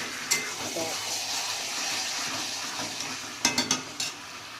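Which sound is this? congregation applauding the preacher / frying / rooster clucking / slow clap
frying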